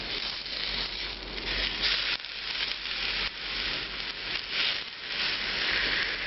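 Unsalted eggplant slices frying in a hot pan, making a soft, continuous sizzle with gentle rising and falling crackle, close and fairly quiet with no talk.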